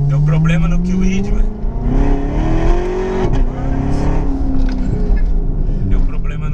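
A Chevrolet Corvette engine revs and climbs in pitch with a steady, loud drone, while people talk over it throughout.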